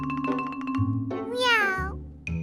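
A child imitates a cat with a drawn-out, rising and falling meow, loud and close, following brief clicks and tones.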